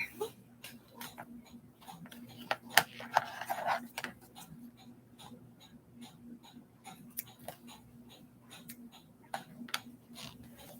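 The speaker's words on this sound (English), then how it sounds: "Every Wednesday you'll hear my grandfather clock." A grandfather clock ticks steadily and faintly indoors in a quiet room, its soft regular beats mixed with small handling noises and a low hum.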